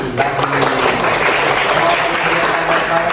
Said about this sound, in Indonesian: Tadi kelompok 1 tepuk tangan lagi.